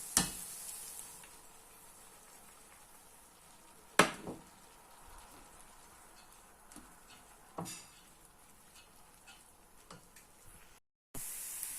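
Fried food tipped into a pan of lentils, giving a low, faint sizzle with a few sharper clatters and scrapes spaced through it, then a brief silence before the hiss returns.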